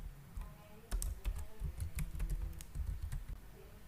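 Typing on a computer keyboard while entering data in SPSS, a steady run of close, crisp key clicks in an uneven rhythm, with no talk over it.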